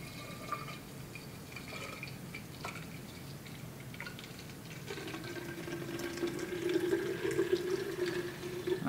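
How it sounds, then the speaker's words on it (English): 7-Up soft drink poured into a container, a trickling liquid pour with light dripping that grows into a steadier fizzing, bubbling rush toward the end, heard up close with no voices. "there's our 7-Up. It bubbles a little bit, which is normal"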